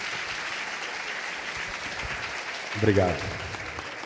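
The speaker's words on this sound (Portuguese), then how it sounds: "peço uma salva de palmas" An audience at an innovation week event applauds to welcome a speaker, with steady crowd clapping throughout at moderate distance and someone briefly speaking over it.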